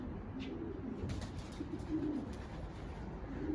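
Low, soft cooing of racing pigeons repeats steadily over a constant background hum, on a rooftop loft, with no one speaking.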